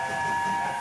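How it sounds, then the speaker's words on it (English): A magical disco train in a children's cartoon hums steadily, its constant rumble topped by a sustained whistle-like tone, loud and continuous throughout. "Maddie, we seem to be on board some kind of a train."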